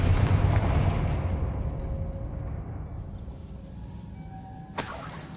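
Confringo fire spell from Hogwarts Legacy, a loud rumbling blast with crackling debris that slowly decays, then a sharp crack near the end.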